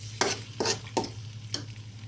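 Blended tomato with onion, ginger and garlic frying in a pan, stirred in four separate scraping strokes over a soft steady sizzle, close, with a low electrical hum beneath.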